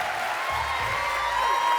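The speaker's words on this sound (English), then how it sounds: "Here's one more round of applause for our MagicCon Atlanta Cosplay Contest contestants." An audience at the MagicCon Atlanta Cosplay Contest applauds the contestants, a steady wash of clapping from a crowd that holds for the whole short stretch.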